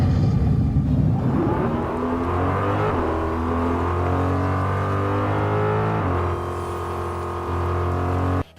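Fortnite video game car body engine, older version, holding a steady droning rev with a faint rising whine and shifting tone, continuous and fairly loud with no talking.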